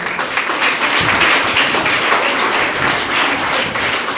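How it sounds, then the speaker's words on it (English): An audience at a school event applauds students, a dense, sustained burst of clapping from many hands that stays loud and even throughout. "Can we applaud for them?"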